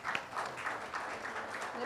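Audience applause welcoming a guest onto the stage at a film music release event, a dense, steady wash of clapping lasting the whole moment with a voice speaking over it.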